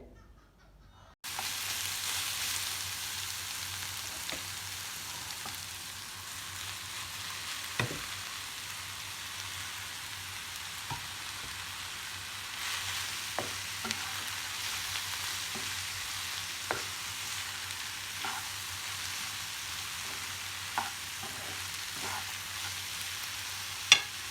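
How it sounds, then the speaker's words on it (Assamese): Chopped ginger and potato fry in hot oil with cumin seeds, starting abruptly after a brief pause into a continuous soft sizzle with occasional light ticks and spoon scrapes, steady and unbroken for over twenty seconds. "আদা আৰু আলু গোটেইখিনি তেলত দি দিম, ভাজি কৰিম ভালকৈ"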